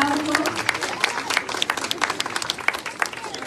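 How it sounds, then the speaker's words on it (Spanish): Crowd applauding at a Señor de los Milagros religious procession in Sunampe, with scattered sharp claps over a steady murmur of voices and street noise, moderately loud and continuous throughout. "¡Que vive el Señor de los Milagros! ¡Fuertes aplausos!"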